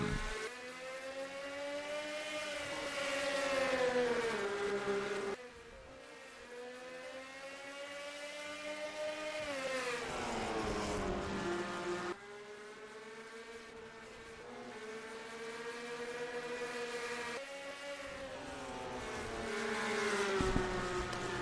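Engines of NASCAR-style race cars at Bristol in a racing video game, a loud sustained multi-car roar rising and falling in pitch as the field accelerates away from the start, with no talk.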